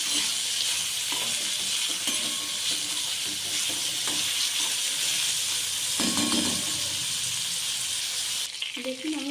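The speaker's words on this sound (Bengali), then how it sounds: "পেঁয়াজগুলো দিয়ে দিলাম কাঁচা লঙ্কা কুচো মতো দিয়ে দিলাম দিয়ে আর একটু ভেজে নিতে হবে" Chopped onions and green chillies frying for poha, a steady bright sizzle with occasional stirring scrapes in the pan, close and continuous.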